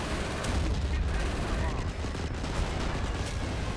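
Dense anti-air gunfire and explosions from the Company of Heroes: Blitzkrieg Mod strategy game form a continuous rumbling barrage of shots as planes are shot down, loud throughout.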